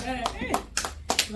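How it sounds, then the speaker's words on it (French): Guests at a 40th birthday party clap in a loose, uneven rhythm, with several sharp close claps standing out while people talk and cheer over them. "Applaudissez, applaudissez."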